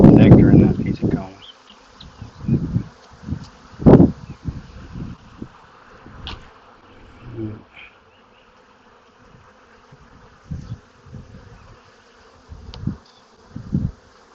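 Honey bees drone around an open hive with frames of comb and brood, a faint, steady buzz broken by louder close passes and handling bumps, with brief quiet gaps between them.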